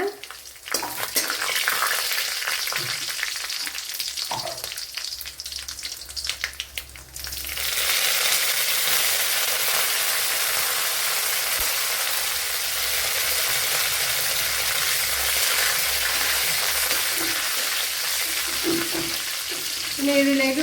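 Dried red chillies and curry leaves drop into hot oil for a tender jackfruit thoran: first scattered crackles and pan clatter, then a loud, steady sizzle that holds to the end.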